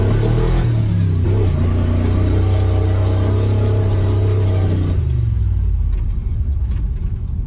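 A Ford F100 farm truck's engine runs steadily while driving, a loud low drone that holds for about five seconds before easing off, with no talk.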